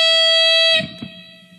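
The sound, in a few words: electric guitar with distortion effect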